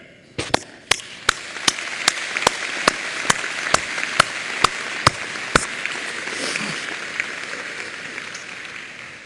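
A convocation audience for science, business and economics graduates claps, with a few sharp close claps early on growing into a dense, even wash of applause that holds steady for several seconds before easing slightly.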